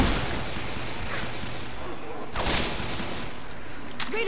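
Shotguns fire in a video game, sharp booming blasts scattered over a few seconds with one strong shot in the middle and a fainter burst near the end, over a steady game background with no talk.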